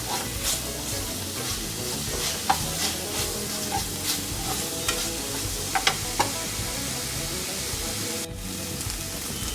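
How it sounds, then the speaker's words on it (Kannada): Onions with ginger-garlic paste fry in a pan for a Mangalorean prawn ghee roast, a steady close sizzle with occasional light scrapes and taps of a stirring spoon, and no one speaking. "ಚೆನ್ನಾಗಿ ತಿರ್ಸ್ಕೊಂಡು ಫ್ರೈ ಮಾಡ್ಕೊಳ್ಳೋಣ."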